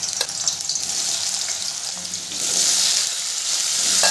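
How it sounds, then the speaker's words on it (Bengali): Cut potatoes fry in hot mustard oil with a loud, continuous hiss. The sizzle swells and grows denser about halfway through as the pieces settle into the oil. "আলুটা খুব ভালো করে আমি ভেজে নেব।"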